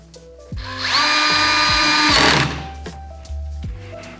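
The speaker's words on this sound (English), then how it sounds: "If you are using a power drill like me, be sure to set the torque pretty low" A power drill set to low torque drives a screw on a Jeep Gladiator JT tailgate, whirring in a sustained, rising burst for about two seconds, with a few short knocks and clicks around it, close and loud.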